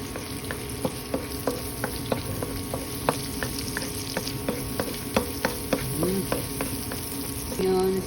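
Spring onions sizzle in a hot pan of oil for a shrimp and spinach dish, a steady crackling fry punctuated by regular taps and scrapes of a utensil stirring, close and fairly loud, with no talk.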